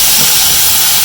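Tomatoes hit a hot pan for chole, setting off a loud, dense, continuous sizzle that hisses like steam without a break, close up and with no voices.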